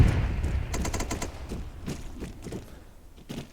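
Distant automatic gunfire from valley defences in Arma 3 rattles in quick bursts, followed by scattered single shots that fade, with a low rumble underneath.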